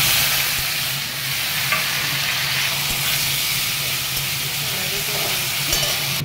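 Grated bottle gourd with curry leaves frying in a pan, a steady close sizzle and hiss running throughout with faint stirring scrapes.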